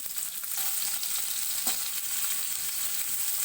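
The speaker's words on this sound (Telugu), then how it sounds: "కొద్దిగా కలర్ చేంజ్ అయ్యే వరకు ఫ్రై చేసుకుందాం" Thinly sliced onion sizzling in hot oil, a steady broadband crackle that holds at an even level throughout with one brief louder spatter, no voices present.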